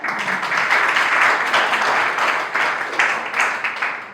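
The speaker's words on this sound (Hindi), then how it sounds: "एक बार आप सभी अपने स्वागत में तालियां बजाएं" An audience at a teacher's training college welcome ceremony claps together, a loud, dense and sustained wave of applause with no talking.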